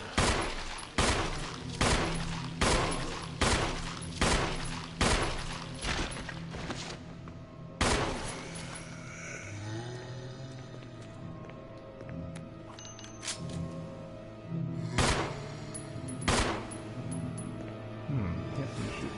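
Rapid volleys of gunfire from Resident Evil 4, loud and close, with sharp shots packed into bursts over the first eight seconds, then sparser single blasts with mechanical clanks and thuds in between.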